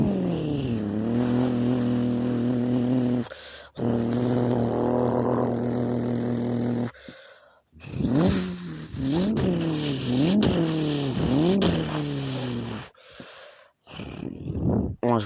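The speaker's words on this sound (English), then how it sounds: "Lamborghini twin turbo." A twin-turbo Lamborghini engine revs hard and loud up close, in repeated rising, roaring bursts with brief drops and pauses between them.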